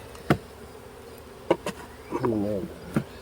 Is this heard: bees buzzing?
yes